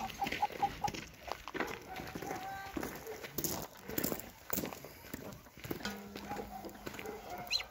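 Brahma chickens cluck in a backyard farmyard, with short, scattered clucks and calls over steady outdoor noise and occasional knocking sounds.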